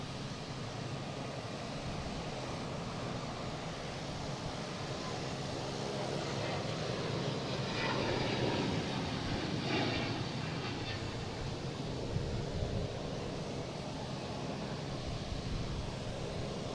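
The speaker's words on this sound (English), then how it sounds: "And it's a 757 from Las Vegas." A Boeing 757 arriving from Las Vegas rumbles steadily at an airport, a broad, fairly faint jet roar that swells slightly midway and holds on without any talk.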